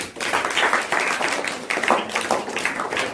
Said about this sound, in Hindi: एक बार आयशा के लिए और तालियां।